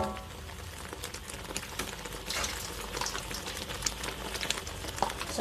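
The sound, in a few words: sautéing blended peanuts for satay peanut sauce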